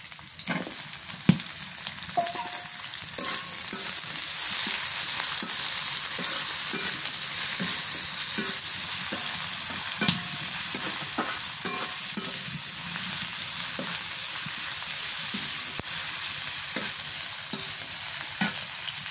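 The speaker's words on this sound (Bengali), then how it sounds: "শুটকিটা তেলের মধ্যে রাখি।" Dried fish crackles and sizzles steadily in hot oil in a home village kitchen, with scattered sharp pops and stirring clicks over a continuous frying hiss, close and alone with no talk.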